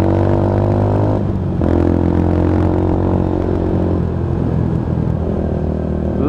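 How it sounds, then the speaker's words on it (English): Lexmoto Tempest GT 125 motorcycle exhaust burbling steadily and loud while riding, a continuous close drone that pauses briefly as the rider shifts, then carries on with a slightly rougher tone. "just have a listen to that exhaust"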